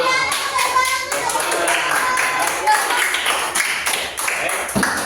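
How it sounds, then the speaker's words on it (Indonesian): Children clap together in a quick, uneven burst of applause, loud and close, with young voices chattering underneath. "tepuk tangan buat kelompoknya Diana dan kita semua."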